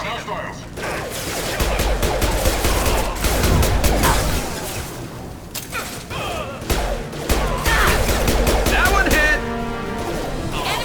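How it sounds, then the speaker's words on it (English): Mass Effect firefight with Blue Suns mercenaries and Vorcha trading gunfire, clattering bursts and mechanical crashes coming in loud waves with brief lulls, while a voice speaks over the combat. "The Blue Suns and Vorcha shooting anything that moves"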